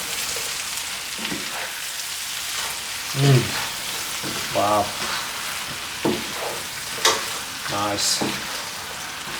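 Beef curry with curry paste sizzles in a pan while being mixed for a Cantonese coconut beef curry, a steady fry hiss broken by scraping stir strokes, with brief remarks from a voice.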